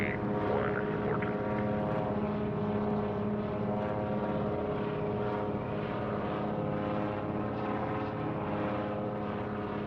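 A Cessna propeller airplane in flight and descending fills the cabin with a steady, loud engine drone and propeller hum, constant throughout with no pauses.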